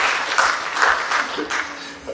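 Audience at an evening talk on cancer research and screening in Precenicco, clapping in a short burst of applause, moderately loud and close, with voices mixed in.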